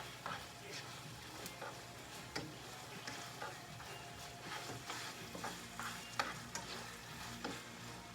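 Chicken stir fry crackles and sizzles steadily in a hot pan or wok, with scattered pops and light stirring clicks over a constant frying hiss, heard up close and fairly quiet.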